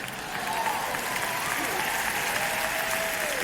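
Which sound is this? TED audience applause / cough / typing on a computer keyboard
TED audience applause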